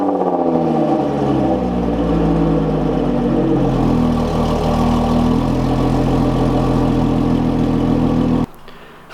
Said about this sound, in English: Let's get one last cold start for you guys.